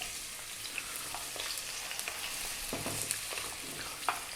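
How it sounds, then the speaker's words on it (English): Onion sizzling in hot sunflower oil in a wok over high heat for pork fried rice, a steady close crackle with scattered sharp pops and light scrapes throughout. "Getting that hot, we're going to drop in our onion."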